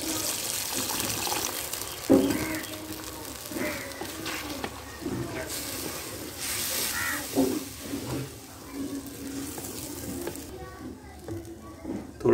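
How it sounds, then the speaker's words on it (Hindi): Water poured into fried mash dal in a pan, a steady splashing pour with sizzling beneath, while someone talks over it in Hindi-Urdu. "दाल को 5-6 मिनट अच्छी तरह भूनने के बाद पानी डाल लेंगे।"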